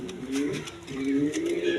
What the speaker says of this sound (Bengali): এখানে এক পেয়ার দেখেন কোয়ালিটি সম্পন্ন জার্মান বিউটি